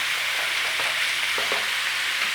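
Bacon sizzles and crackles steadily in a hot pan, a dense continuous fry with a few brief stirring knocks, close and fairly loud with no voices.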